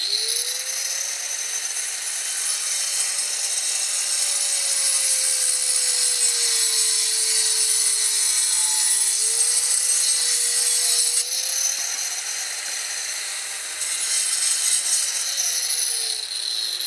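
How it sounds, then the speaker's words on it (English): A saw whines steadily as it scores a stone veneer piece, loud and close, its pitch dipping and rising as the blade loads and frees up, with a gritty hiss throughout and no talk. "He's going to score it, and then he can break it on a solid surface"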